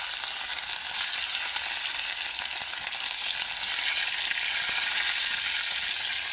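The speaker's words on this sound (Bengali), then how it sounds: "এখন এটাকে আমি হলুদ মরিচ মাখিয়ে ভেজে নিব।" Snakehead fish coated in turmeric and chili powder fries in very hot oil in a wok, giving a loud, steady, dense sizzle throughout with a few faint clicks and no talking.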